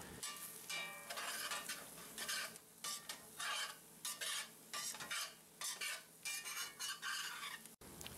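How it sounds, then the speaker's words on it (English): Flour is stirred into a hot pan of fat to build a roux for beef gravy for poutine, giving a steady sizzle with repeated scraping strokes of the spoon, close and fairly loud, with no talking. "we add a 1/4 cup of flour and stir it to make our roux"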